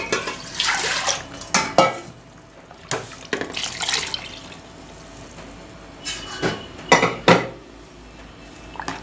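Sambar being stirred in a cooking pot with water, giving bursts of metallic clinks and scraping from a spoon against the pot, separated by quieter gaps, close and loud.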